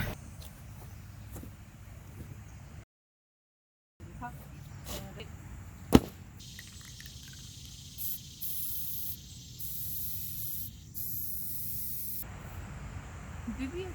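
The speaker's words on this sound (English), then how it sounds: "Let's get spray painting." Spray paint hisses onto a taped-up Lord of the Rings welcome sign in several long, steady bursts with brief gaps, fairly close and even. Handling noise comes before the spraying starts.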